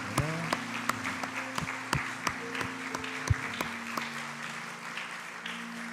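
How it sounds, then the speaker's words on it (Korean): Scattered applause from a congregation at a church prayer meeting, fairly quiet and sparse with distinct individual claps rather than a dense roar, while a steady hum runs beneath. "저희들이 큰 격려 박수 한번 보내주시기 바랍니다"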